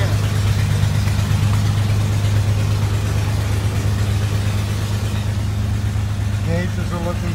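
A big engine idles with a steady low rumble throughout, loud and close, with a few faint chirps near the end.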